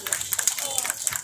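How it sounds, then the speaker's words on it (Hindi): Audience clapping in welcome at a memorial and journalist-honouring ceremony, short uneven bursts of hand claps mixed with voices over a brief moment. "जोरदार तालियों स्वागत करेंगे"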